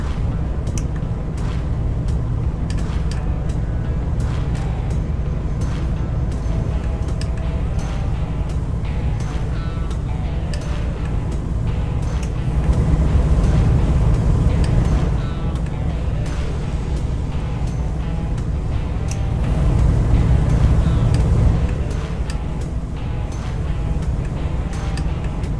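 Boat engine running in the video game Fishing: North Atlantic, a steady, dense low drone that holds constant for the whole stretch and swells louder twice, with no break in the noise.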